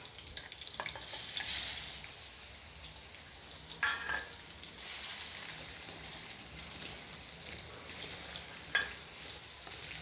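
Chopped boiled potatoes drop into a hot frying pan, giving a soft, fairly faint sizzle with a few brief louder bursts as the pieces land and are stirred.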